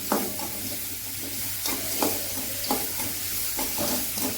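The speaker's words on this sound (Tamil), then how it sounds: "நல்லா வதக்கு வதக்கு வதக்கு வதக்குன்னு வதக்கலாங்க" Vallarai keerai (Indian pennywort) greens being sautéed in a pan for chutney, with repeated soft stirring scrapes and a steady low sizzle running underneath, fairly close and moderately quiet.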